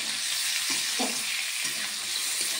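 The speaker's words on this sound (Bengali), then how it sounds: "এবার সবগুলো একসঙ্গে ভালোভাবে কষিয়ে নেব।" Fried onions with boiled potatoes and tomato sizzle in a pan, a steady hiss of frying with a few soft stirring scrapes, close and continuous with no voices.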